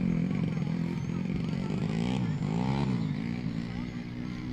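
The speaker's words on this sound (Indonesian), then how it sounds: "Saya terlihat jokinya mendorong motornya karena ini medannya di lumpur." Motorcycle engine droning and revving through a muddy race course at a grain-taxi motorbike race in Barru, the rider pushing the bike, a steady loud motor with shifting pitch under a commentator's voice.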